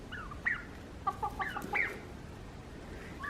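Chickens, including a black hen, cluck softly among turkeys at feeding time, a few short bursts of clucks and squawks scattered over a quiet background hiss, with no talking.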